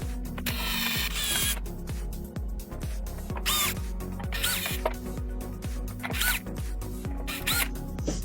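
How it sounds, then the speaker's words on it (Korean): During cabin assembly, a power tool drives screws in short, rhythmic whirring pulses that repeat evenly at a moderate, close level, with no one talking. "나사를 체결을 해줄 겁니다."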